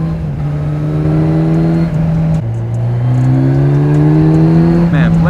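A Kawasaki Ninja 1000SX motorcycle engine pulls hard on a mountain road, its loud, steady tone climbing through the revs, dropping at a gear change, then rising again, with wind noise throughout.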